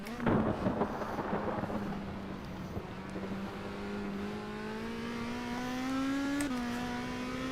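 Heavy rain and thunder in a racing sim video game with an Osella race car at the Nurburgring, a steady wash of rain and an early rumble under a droning, slowly rising engine note.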